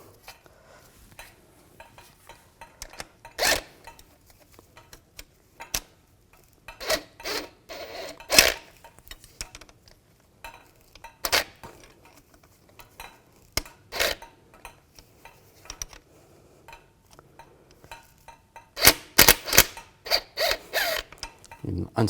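Metallic clicks, scrapes and ratcheting come from unscrewing a brake caliper banjo bolt and washer on a Buick LaCrosse, with pliers holding the washer. Short uneven bursts sound close, with quiet gaps between them and a denser cluster near the end.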